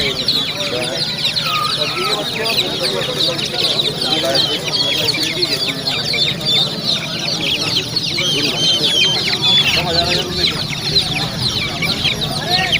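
Chickens and roosters at a poultry market in Indore keep up a dense, continuous chorus of clucks and squawks, close and loud, with people talking among them.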